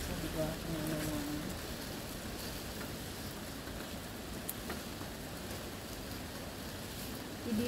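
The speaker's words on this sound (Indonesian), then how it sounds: "hujannya makin deras ini" Heavy rain pours steadily during a rainy morning vegetable harvest of cassava leaves outdoors, a dense broadband hiss with some wind, close and continuous, with a faint low voice briefly near the start.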